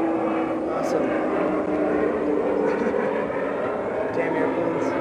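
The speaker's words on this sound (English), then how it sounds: "Damn airplanes." An airplane drones overhead in a steady, loud, continuous rumble that holds throughout.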